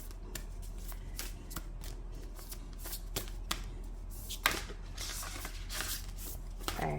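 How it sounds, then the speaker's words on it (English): Tarot cards being shuffled by hand, a steady run of crisp riffling and flicking bursts, close and clear with no talking. "I'm just going to shuffle these until one flies out."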